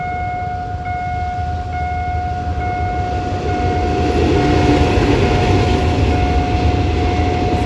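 Freight train running in the evening near Ban Thung Pho, the Chula bridge and Surat Thani station in Thailand, with a pushing locomotive at the rear: a loud, steady rumble and a sustained tonal horn-like whine throughout, swelling slightly near the end.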